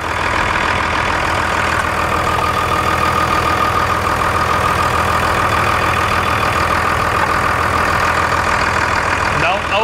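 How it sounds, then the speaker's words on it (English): A 2002 Dodge Cummins diesel engine idling after a FASS fuel pump install, a steady, even low rumble with a faint mechanical clatter that holds unbroken throughout. "when you tighten your lines down, the motor will smooth right out"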